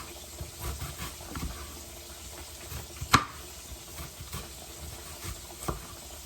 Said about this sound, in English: Do you hear how the grease, the sound of the frying is decreasing?